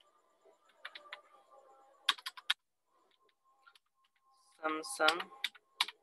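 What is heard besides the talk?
typing on a computer keyboard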